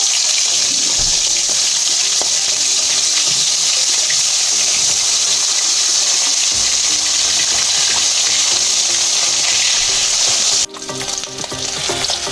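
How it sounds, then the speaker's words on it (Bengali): Koi fish frying in hot mustard oil in a wok, a loud, dense, continuous sizzle and crackle close up throughout, with a sharp jump in intensity near the end as the fish are stirred or turned. "কড়াইতে সর্ষের তেল দিচ্ছি, তেল গরম হয়ে গেছে। এবার কই মাছগুলো আমি দিয়ে দিচ্ছি।"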